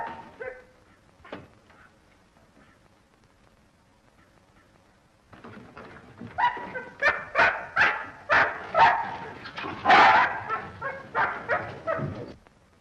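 A dog named Captain barks repeatedly in a burst of loud, close yaps and bow-wows after a quieter lead-in, set in a 1933 French mystery film about a locked room.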